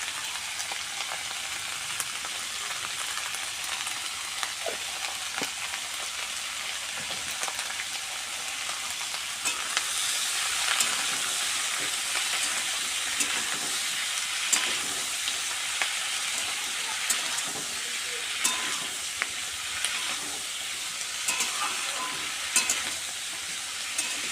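Onion curry with turmeric and salt frying in a pan, a steady loud sizzle with scattered scraping stirs of a spatula, close and continuous without talk.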